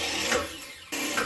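A press tool crimps a fitting during a Navien tankless water heater installation: a short mechanical whir and grind that stops abruptly, then resumes briefly, close and fairly loud with no talking.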